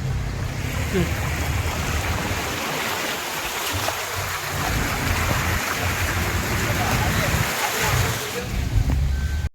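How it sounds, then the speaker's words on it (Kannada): A stream in heavy flow rushes loudly and continuously close by, a dense roaring wash of water with some wind buffeting the microphone. "ಈ ಕಡೆ ತೋಡಿನಲ್ಲಿ ನೀರು ತುಂಬ ಹರಿತಾ ಉಂಟು"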